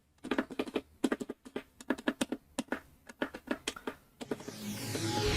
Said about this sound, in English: Here we start clicking the buttons.